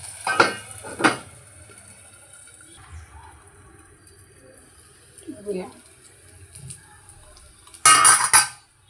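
A thin pan on a medium gas flame is opened to check the cooking of a crispy snack: a couple of sharp metallic clinks and clatters at the start, quiet stretches with faint handling, then a louder burst of clanking near the end.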